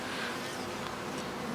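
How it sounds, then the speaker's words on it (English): Honey bees hum around an open poly hive, a dense, steady buzzing of many insects close by, with no voices. "super, super, super chilled out bees."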